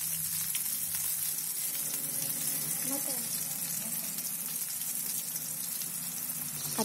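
A vegetable mixture fries on a full gas flame in a home kitchen, giving a steady, dense sizzle with soft stirring and scraping sounds throughout and no pauses.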